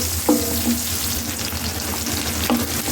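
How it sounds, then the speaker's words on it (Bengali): Chopped onion and garlic fry in oil with a loud, close, continuous sizzle, broken by occasional scraping taps of a spatula stirring the pan. "ভাজার জন্য দিয়ে দিচ্ছি আমি পরিমাণ মতো তেল, দিয়ে দিচ্ছি পরিমাণ মতন পেঁয়াজ কুচি আর রসুন কুচি।"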